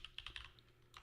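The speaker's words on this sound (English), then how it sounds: "let me just finish typing this" Quick keystrokes on a computer keyboard, heard close up as short bursts of clicks with a brief pause midway and a final flurry at the end.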